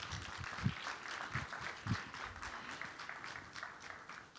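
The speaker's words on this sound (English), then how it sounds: "please join me with a big round of applause" A conference audience at a GLOBSEC Forum stage applauds to welcome the President of Slovenia. The clapping is a steady, fairly distant wash that rises and falls slightly over a few seconds.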